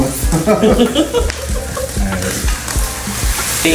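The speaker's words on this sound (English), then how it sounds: "now we're gonna deglaze the pan with sherry" Sherry poured into a hot pan of crispy pork for dan dan noodles sets off loud, crackling sizzling as the fond is scraped and stirred, with bursts of spatula scraping and clatter.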